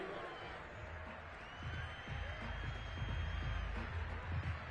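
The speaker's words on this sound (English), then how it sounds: "Plenty of shouts from this crowd as they watch the replay." A football stadium crowd shouts and murmurs in a steady broad roar that swells louder midway through, filling the space from a distance with no clear single voices.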